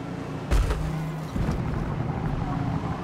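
KTM GT2 race car engine at Le Mans in a racing video game: a low, steady engine drone with a sudden burst at the start and a shift in tone a second later, no voices.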